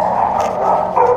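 Several dogs barking at a run-down Italian kennel in Sarno, a continuous loud, dense chorus of overlapping barks and yips with no pauses.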